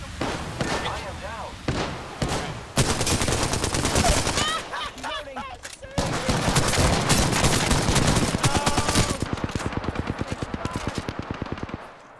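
Bursts of rapid automatic gunfire and single weapon shots from an Apex Legends battle, loud and continuous through most of the stretch, with players talking over the shooting.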